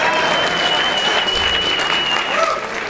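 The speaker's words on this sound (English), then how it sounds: "Hey, fucking clap for her," An audience applauds a poster prize winner at a Paul Verhoeven tribute screening, steady dense clapping filling the room for about three seconds, with a faint tone running through and voices murmuring underneath.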